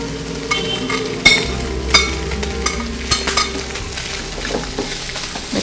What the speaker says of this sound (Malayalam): ഈ വറുത്ത് വെച്ച സവോള, നാളികേരം, മുളക്, കറിവേപ്പില ഇതെല്ലാം ഈ ഫ്രൈ ആയ ബീഫിലേക്ക് നമ്മൾ മിക്സ് ചെയ്യാണ്